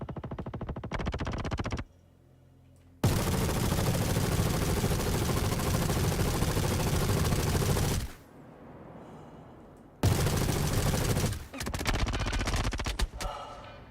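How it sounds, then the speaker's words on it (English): A machine gun fires in long sustained bursts in the space game Star Citizen, loud and dense, with short pauses and a trailing hum between bursts. "I think I'm just gonna empty the machine gun."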